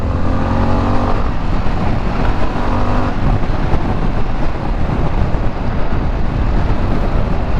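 A 2021 Harley-Davidson Pan America adventure motorcycle on a test ride, with a steady engine drone blended with heavy wind rush, a brief throttle rise early on, loud and continuous without talk.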